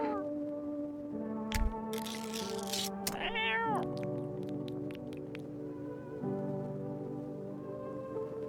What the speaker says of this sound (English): Let's feed the kitty.